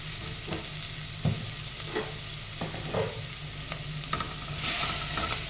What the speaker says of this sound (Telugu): ఉప్పు కూడా ఉల్లిపాయలు వేసుకుంటే ఉల్లిపాయలు నల్లగా రాకుండా మంచిగా వేగుతాయి.